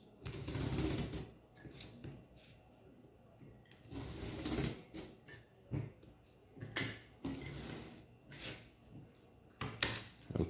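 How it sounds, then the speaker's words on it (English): A utility cutter is drawn through cardboard along a ruler in repeated strokes, each a short scraping rasp with small knocks and handling noises between them, recorded close and fairly quiet. "So let's just cut a few more times."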